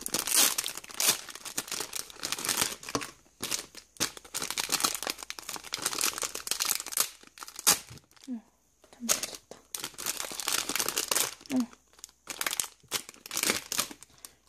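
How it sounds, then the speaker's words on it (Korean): Loud, irregular crinkling and rustling of plastic packaging on Daiso products being handled and torn open, with brief pauses and a voice speaking intermittently underneath. "비닐소리 양해 부탁드립니다."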